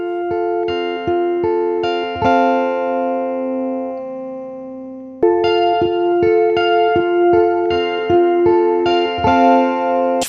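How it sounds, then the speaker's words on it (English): Plucked, tonal music with a shimmering, thickened chorus quality, playing steady repeated notes, pausing briefly near the middle before resuming. "The chorus effect is used to thicken the sound"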